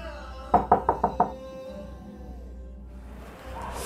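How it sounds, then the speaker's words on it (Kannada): Five quick knocks on a door sound in a steady burst, fairly close and loud, then a quiet room tone follows with no talking. "ಈ ಕತ್ತೆ ಡೋರ್ ಬೆಲ್ ಆಗ್ತಿರೋದು ಕೇಳಿಸ್ತಿಲ್ವಾ ನಿಂಗೆ?"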